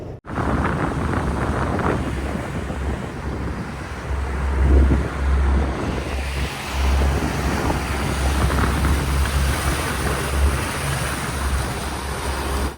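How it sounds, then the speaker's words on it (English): Ocean waves at night in Botany Bay, a steady close rushing wash with buffeting wind noise against the microphone and no voices. "you can only hear the waves"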